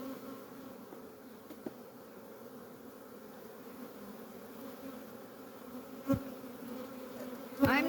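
Honey bees buzz steadily around an opened hive on a hot day during a nectar dearth, a continuous close drone with a few louder passes near the end, no talk.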